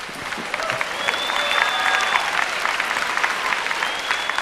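A concert crowd claps loudly and continuously after a performance, the dense applause steady throughout with faint whistles above it.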